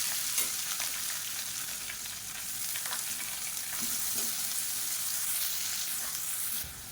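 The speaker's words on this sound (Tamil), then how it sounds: "பொடியாக நறுக்கின வெங்காயம் 1 கப் அளவுக்கு சேர்த்துக்கலாம்." Chopped onions fry in hot oil with mustard seeds, chana dal and curry leaves for a pongal, giving a steady, loud sizzle that stays even throughout with no talking.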